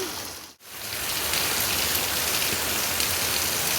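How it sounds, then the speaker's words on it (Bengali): Heavy rain pours down in a dense, loud, continuous hiss. After a brief dip near the start, the downpour holds steady with no voices. "আজকে দারুণ বৃষ্টি হচ্ছে এত বৃষ্টি হবে মানে ভাবতে পারিনি"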